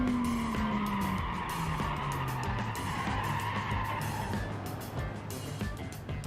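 In the BeamNG driving game, a car's tires squeal as it understeers, a loud, sustained screech over a steadily droning engine whose pitch slowly falls.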